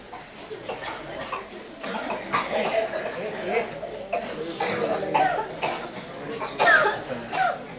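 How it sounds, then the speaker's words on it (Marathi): Audience members at a public program in a village near Pune cough repeatedly and unevenly, several people overlapping in a roomy space, with some murmuring among the coughs. "तुम्हाला खोकला आला बघितलं ना"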